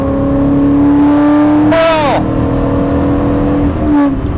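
A big 4.9-liter V8 in an original Maserati Ghibli drones steadily close by, with one quick rev that rises and falls midway. A person briefly exclaims over it.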